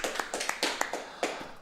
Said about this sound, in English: I have to clap as well for the guys that stayed here with me.